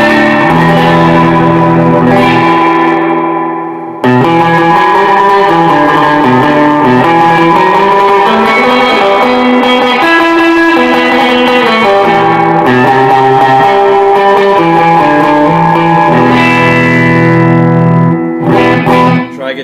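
Electric guitar chords through an F-bomb reverb pedal and a small solid-state amp, ringing with a wet, washy reverb tail, played steadily and loudly with a brief pause early on.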